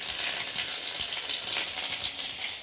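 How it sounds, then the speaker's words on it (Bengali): Bay leaf and cumin sizzling in hot oil as ginger paste goes into the pan, a steady bright crackling hiss filling the whole stretch close up with no talking. "তেজপাতা জিরেটা একটু লাল করে ভেজে নেব। এবার দিয়ে দেবো আদা বাটা"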